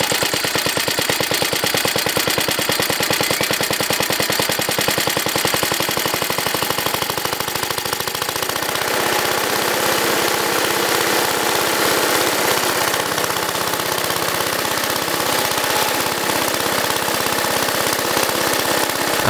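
An ATCO self-propelled cylinder lawnmower engine, not run for over five years and refuelled with fresh fuel, runs loudly and steadily nearby with a fast even putter and no talk.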